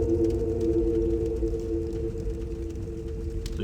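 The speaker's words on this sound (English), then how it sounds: "as it comes back, we can hear that humming sound again" Steady low electronic hum standing in for the Earth in a solar system game project, a droning tone with a faint buzzing edge that holds evenly and alone throughout.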